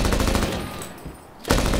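Rapid automatic gunfire from a Call of Duty game: dense machine-gun bursts that stop briefly and then resume at full loudness, close and loud.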